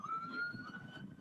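Police car sirens wail at a downtown Dallas protest, a steady sustained tone heard at moderate distance over a low rumble of traffic and crowd noise, with no one speaking.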